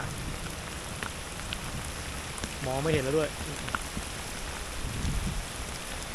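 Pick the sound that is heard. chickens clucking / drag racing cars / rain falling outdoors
rain falling outdoors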